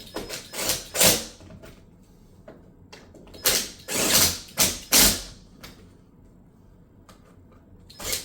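Ratchet clicking in several short bursts, close and alone, as screws are tightened diagonally to fix a wobbly chair, with quiet gaps between the bursts of clicks.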